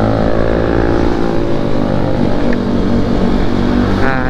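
A motorcycle engine revs hard and steadily with a popping, crackling exhaust, loud and close throughout with no talk.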